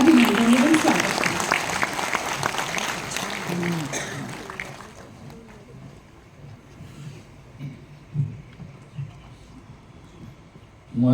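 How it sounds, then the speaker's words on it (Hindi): An audience at a government conclave of school principals applauds to welcome a minister. The clapping is loud and full at first, then thins out and fades after about five seconds, with voices and scattered sounds continuing. "कृपया तालियों के साथ उनका अभिनंदन एवं स्वागत करें।"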